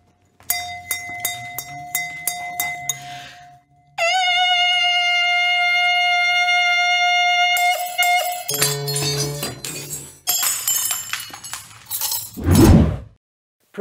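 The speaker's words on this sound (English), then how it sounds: "You know someone can break that glass if they sing at that frequency?" Wine glass driven to its resonance frequency by a loud, steady pure tone that holds for several seconds, then breaks into a burst of sharp shattering and clinking glass, ending in a loud crash.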